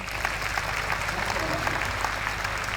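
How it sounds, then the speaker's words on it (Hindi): Dense, steady applause from a large audience fills a hall at the Navyug School Peshwa Road alumni meet, continuous clapping with a low background hum and no speech. "तालियां रुकनी नहीं चाहिए"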